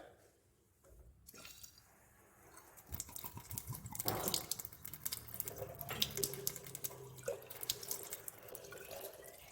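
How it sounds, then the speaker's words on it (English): Water runs from a laboratory tap into a vessel, a close splashing, gurgling stream that starts after a few seconds and continues with irregular drips and clinks. "Now I will take tap water from a laboratory tap."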